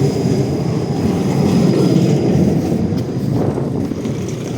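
A tram rolls past on a street in Lviv, Ukraine: a loud, close rail rumble that swells in the middle, with a faint high wheel squeal on top and some wind buffeting the microphone.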